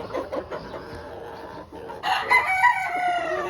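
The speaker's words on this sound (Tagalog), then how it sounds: "Broodstag number 1. Pure white kelso." A pure white Kelso broodstag rooster of the B-Boy Enriquez line lets out a loud, close crow in the second half, after softer clucking and yard noise.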